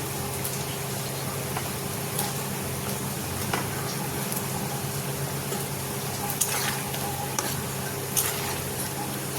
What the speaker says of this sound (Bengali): তো এখানে দেখো ঝোল মনে হয় ফুটছে।